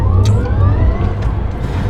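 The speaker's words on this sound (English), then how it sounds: "Should we do another launch control?" A Rimac Nevera electric hypercar launching, a rising whine that climbs in pitch over a low rumble of rushing road noise.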